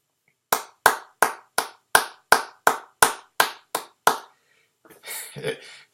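About ten sharp, evenly spaced hand claps ring out close and loud, one person clapping alone, followed by a brief burst of muffled noise.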